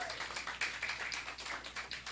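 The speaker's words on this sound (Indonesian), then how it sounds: "Berikan tepuk tangan untuk Tuhan" A worship-service congregation claps hands in a quick, uneven patter, soft and somewhat distant, with the claps blurring into a light rhythmic stream.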